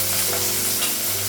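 Onions fry in a pan with a steady, close hiss and sizzle that runs unbroken, with no voices.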